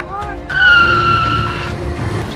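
A motorcycle ridden hard during a dangerous road stunt in Jhansi, with a loud, close tire squeal and engine whine rising into a sustained skid, heard under a voice.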